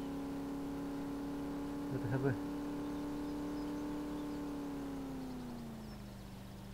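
A Porsche car engine in Farming Simulator 2017 holds a steady low hum that fades downward near the end, while someone speaks briefly over it.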